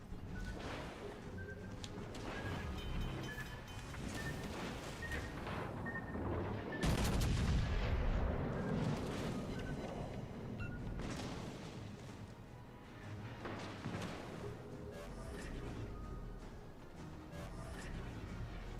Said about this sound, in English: our battleship shooting HE, and he has terrible accuracy